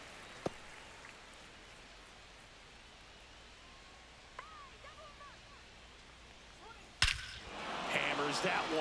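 One sharp crack of a baseball bat driving a home run at an Astros vs Nationals MLB game. It follows a quiet stretch and is trailed by a swelling roar from the crowd.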